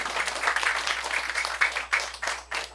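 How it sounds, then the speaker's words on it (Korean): Audience at a school debate forum applauding a middle school student as she takes the microphone, a steady patter of clapping with a few louder bursts, close and moderately loud, no voices over it. "여러분 박수 한번 보내주세요"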